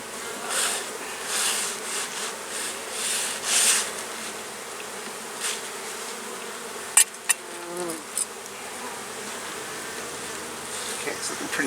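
Honey bees buzz around a hive in warm weather as foragers fly in carrying pollen. Their droning swells and fades as they pass near the microphone, and a few sharp clicks sound toward the end.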